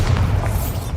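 A Bombarda spell explosion in Hogwarts Legacy erupts as a dense, loud, booming roar. It fills the whole brief moment with deep, sustained force and no voices.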